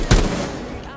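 A single sharp gunshot from the tactical shooter Rainbow Six Siege, a loud close burst near the start that decays into a lingering rumbling tail with a faint voice underneath.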